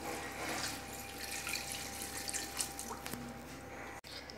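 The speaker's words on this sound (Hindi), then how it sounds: "तो इसके अंदर 2 लीटर के करीब पानी डाल दूंगी।" Water is poured into a pressure cooker holding meat, a steady quiet splashing stream running for about four seconds, close by and alone with no talk.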